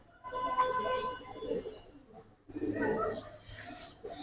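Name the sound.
pigeons cooing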